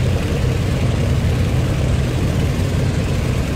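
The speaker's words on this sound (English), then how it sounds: "I'm throttling her down. The more the loping sound of those big radial piston engines." Big radial piston engines of a Grumman E-1B Tracer throttling down in Flight Simulator X, a steady loud low rumbling drone with a loping beat that runs unbroken throughout, heard close up with no talking.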